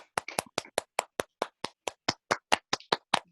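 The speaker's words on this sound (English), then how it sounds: "Round of applause, everyone" A single pair of hands claps at close range in a quick, steady rhythm of about eighteen crisp claps in just over three seconds, part of an online cultural market gathering.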